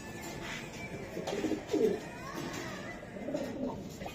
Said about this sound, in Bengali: আসলে ভাই কবুতর গুলো অস্থির। প্রত্যেকটা কবুতর জোড়া জোড়া ভাই,